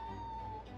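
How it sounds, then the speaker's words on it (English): A cat meows faintly in the background, a single drawn-out cry beneath a steady low hum. "you can probably hear some meowing from two different sources in the background"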